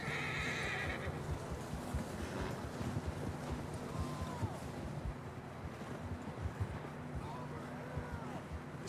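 Horses neigh in Red Dead Redemption 2, with several whinnies rising over a steady patter of hoofbeats and a soft wash of wind, heard from a moderate distance.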